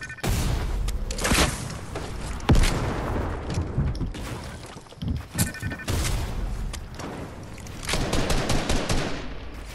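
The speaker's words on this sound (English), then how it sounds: "Watch out, the guy in the hill is sniping." Sniper fire from a hill in a video game, with repeated sharp rifle cracks and bursts of gunfire scattered irregularly over a rumbling battle backdrop.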